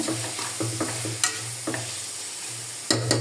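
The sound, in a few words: sautéing masala for chicken biryani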